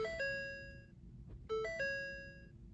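A Ford F-150 ignition warning chime: a two-tone electronic ding-dong, bright and falling, that dings twice, repeats after a short pause and rings out clearly with no talking.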